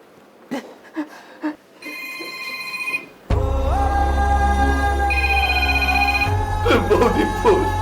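A telephone rings loudly in two separate bursts, first in a quiet room and then over a low, steady hum, with brief voices before and after.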